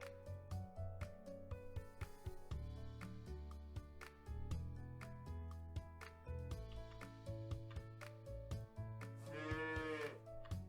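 Cartoonish cow moos in a farm roguelike video game, several short mooing calls repeating in quick rhythm over bouncy game music and ticking effects, clear and up front with no talking.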